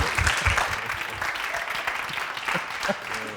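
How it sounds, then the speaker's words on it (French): Steady applause from a television studio audience, dense clapping with scattered cheers throughout, sustained at an even level for a few seconds. "Merci de faire des applaudissements pour ces Malo."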